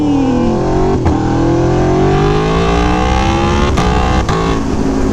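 An Aprilia Tuono V4 RR motorcycle accelerates hard out of an off-camber corner after downshifts, its loud, close engine note climbing steadily in pitch as the throttle is opened, with brief shift breaks along the way.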